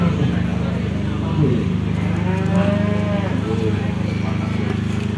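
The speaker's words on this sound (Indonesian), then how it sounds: "sapi ini galak" Cattle lowing at the Pacitan cattle market in East Java, with Limousin and PO breeds present: a loud, drawn-out moo rises over a dense steady market din of engines, crowd noise and people talking nearby.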